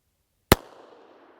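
A single sharp, loud report from a LifeCard pistol firing a 22 WMR (22 Magnum) round, followed by a brief decaying echo, with no talk.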